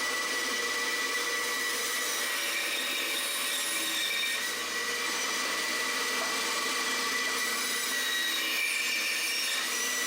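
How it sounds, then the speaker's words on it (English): A bandsaw trims excess wood off a glued block, giving a steady, continuous high-pitched whine and cutting hiss that stays constant, close and fairly loud, with no voices. "I use my bandsaw to trim off the excess ears."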